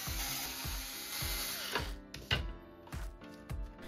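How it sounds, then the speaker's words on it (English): Tweeter screws being unscrewed from the front grille of a JBL PartyBox Encore Essential speaker, with a close, regular ratcheting click that repeats about every half second over a steady electronic hum. "We can remove the tweeters by taking off two screws from each tweeters."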